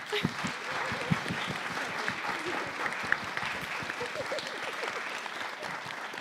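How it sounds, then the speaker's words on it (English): An audience at a queer, feminist, gothic anthology event gives a sustained round of applause, a dense, steady clatter of many hands clapping with no break. "Let's give an applause for everyone."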